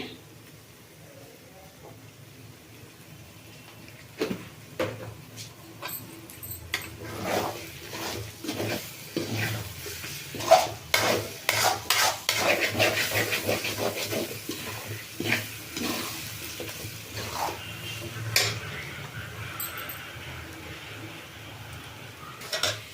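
Egg rice masala with turmeric stirred and fried in a pan: a long run of scraping, clinking spoon strokes against metal, irregular and close, over a low sizzle, with a voice talking at times.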